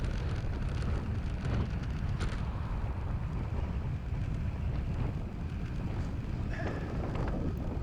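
Heavy wind buffets the microphone of a cyclist sprinting into a headwind during a road ride, a loud continuous low roar with steady rushing throughout and no voices.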